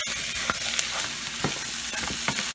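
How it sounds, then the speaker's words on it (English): Chopped red tomato stirred into a simmering roasted mutton curry, with steady sizzling in the pan and a few scraping clinks of the spoon against the pot. "I'm going to add 1 full red tomato, sliced, chopped thin and small. I'm going to mix that."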